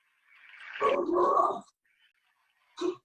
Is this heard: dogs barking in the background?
yes